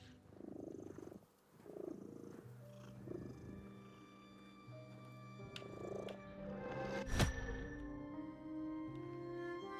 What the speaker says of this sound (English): The cat statue has arrived right at the entrance to town now and is purring.